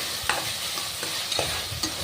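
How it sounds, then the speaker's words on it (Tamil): Chopped tomatoes frying in a pan for chicken biryani, stirred with a spoon: a steady close sizzle with several soft scraping strokes at an uneven rhythm, no voices. "நல்லா வதக்குங்க. தக்காளி நல்லா பேஸ்ட்டு மாதிரி வதங்கி வரணும்."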